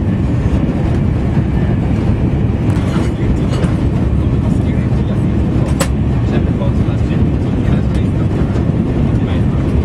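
A train running at about 190 miles an hour gives a loud, steady roar of rushing air and rumbling wheels, constant and close throughout, with brief sharp clicks and bumps from the track.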